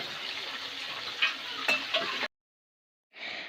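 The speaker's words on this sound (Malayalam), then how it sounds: "അപ്പോൾ ഇതാ നമ്മുടെ ബിരിയാണിക്കുള്ള ചിക്കൻ ഇവിടെ ഇങ്ങനെ പൊരിച്ചുകൊണ്ടിരിക്കുന്നുണ്ട്" Chicken pieces fry for biryani, a steady crackling sizzle with a few sharp pops, cut off abruptly and then resuming after a short silence.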